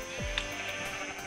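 Sheep bleating in the video game Minecraft, one short wavering bleat standing out over a steady hum of game background sound.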